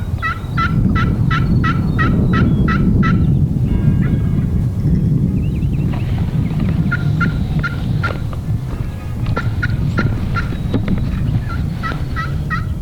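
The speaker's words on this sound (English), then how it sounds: "We yelp, turkey gobbles." A Rio Grande wild turkey gobbles in the field, bursts of fast rattling notes repeated several times against steady low wind rumble, heard from a moderate distance, with a few quieter calls mixed between.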